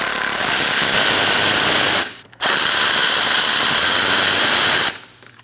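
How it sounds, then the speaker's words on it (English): A 10mm socket spins out bolts holding the grille of a 2020 Toyota Corolla, a steady close mechanical whir running in two long bursts split by a short pause. "Now we're going to use a 10mm socket, and we're going to take out these two bolts"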